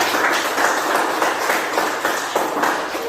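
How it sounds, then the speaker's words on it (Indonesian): A classroom of students applauds together, a steady dense wash of clapping that holds evenly throughout without pause. "tepuk tangan buat kita semua"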